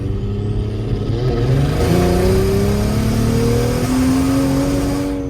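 Turbocharged Lexus IS300 engine held under load, a loud, close, continuous droning rev with pitch sweeping upward and wavering as the power cuts in and out, no voices over it.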